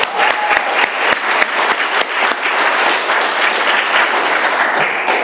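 Steady, dense applause from an audience at an Alcoholics Anonymous meeting in Doylestown, PA, filling the room loudly and continuously with no voices over it.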